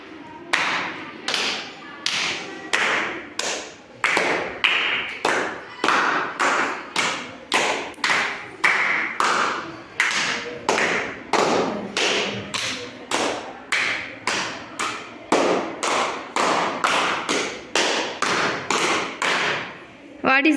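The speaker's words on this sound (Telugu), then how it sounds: "Clap." Children trade claps in a clap-exchange game at a girls' school, sharp rhythmic slaps ringing out in a steady, evenly spaced run of bursts, close and loud, with brief voices mixed in.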